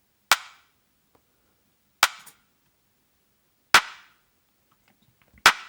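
A processed, widened clap sample in an electronic track, with four crisp, snappy claps spaced about a second and a half apart, each a sharp crunchy hit with a short tail and silence in between.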